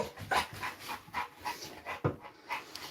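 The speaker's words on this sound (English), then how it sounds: "You're a good dog." Dog panting close by: quick, rhythmic breathy huffs repeating steadily, with no talking.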